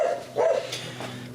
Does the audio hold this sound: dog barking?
yes